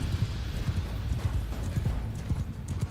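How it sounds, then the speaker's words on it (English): Cavalry horses gallop in Mount & Blade 2: Bannerlord, their hooves striking in a fast, steady stream of loud, close thuds that run throughout, with a faint whinny and no talk. "Cavalry! Horse, move forward!"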